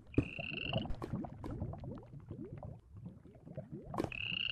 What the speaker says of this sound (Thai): ได้ยินเสียงเหมือนกบหรือเสียงของเหมือนจิ้งหรีด